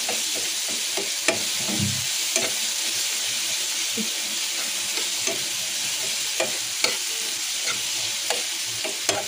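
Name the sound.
tomatoes frying in a pan, stirred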